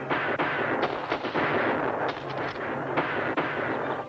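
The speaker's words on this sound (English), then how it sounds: "Tell them to stop firing." Gunfire in a battle scene from the 1956 Western Yaqui Drums: dense, continuous crackling shots and booming reports pile up in a loud, chaotic barrage with no pauses.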